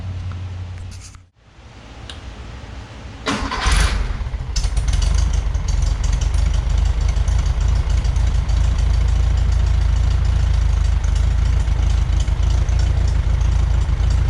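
A 1973 VW Beetle with a remanufactured Bosch 034 distributor cranks briefly, catches and settles into a loud, steady, rough idle close by that runs to the end.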